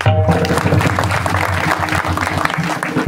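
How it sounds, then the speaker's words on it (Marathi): An audience claps in appreciation of the mothers at a gathering, a dense burst of applause lasting a few seconds at moderate volume, with faint voices mixed in. "आमच्या माता होण्यासाठी एका जोऱ्यात टाळ्या वाजवल्या"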